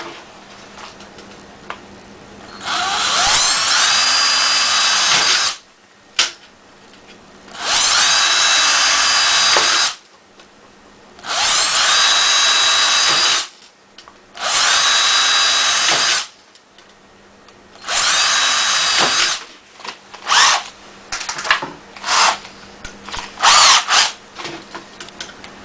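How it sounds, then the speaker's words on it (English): A power drill whines in five or six sustained bursts of several seconds each, drilling holes in a metal case, separated by short pauses, followed by shorter choppy bursts and clatter. "I'm just going to drill out a couple more holes in here real quick"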